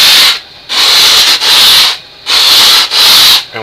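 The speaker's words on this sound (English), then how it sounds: "Our sanding sponge." A sanding sponge is worked back and forth along the edge of a granite countertop in loud, close abrasive strokes, four long rubbing passes separated by brief pauses.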